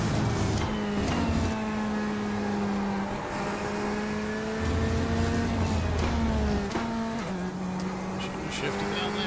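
Race car in a GT racing video game downshifting, engine note stepping up and down through several rapid gear changes, loud and continuous throughout with no talking over it.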